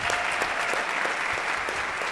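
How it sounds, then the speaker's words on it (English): A concert audience claps loudly and steadily for university concert band soloists at a spring performance, a close, unbroken wash of many hands. "One more round of applause for the soloists."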